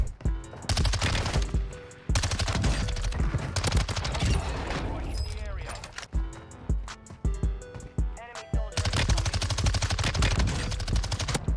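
MP7 submachine gun, built out as an assault rifle, firing in Warzone 2: loud, close bursts of rapid automatic gunfire broken by short gaps and repeated across the whole stretch.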